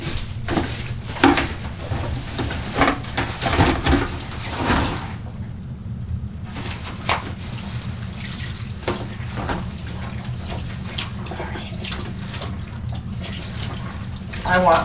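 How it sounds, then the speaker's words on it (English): Tap water pours steadily into a tub for washing raw wool fleece, a continuous splashing gush with sloshing and handling noises, while a person talks over it. "I want more water in there"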